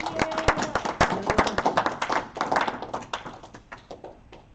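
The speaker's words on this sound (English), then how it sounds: "Please, round of applause for our sponsors." A modest crowd claps for sponsors at an event, sharp individual hand claps rattling quickly at first, then thinning out and fading toward the end.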